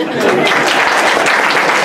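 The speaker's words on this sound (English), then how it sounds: "I would have said a round of applause for Ejaz, but you've done it already, so we can do it again" Loud, dense applause from a conference audience at a book launch for Ejaz Bhalloo, a continuous roar of many hands clapping close by.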